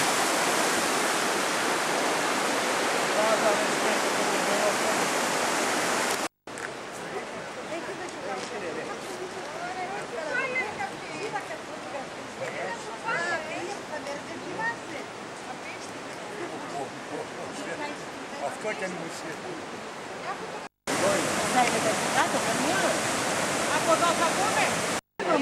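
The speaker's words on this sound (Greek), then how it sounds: "Πλησιάζουμε το ποτάμι. Το ποτάμι του Αγκίτη," Angitis river flowing near a cave in Drama, Greece, heard as a steady close rushing of water, loud at the start and end, with people talking faintly in between.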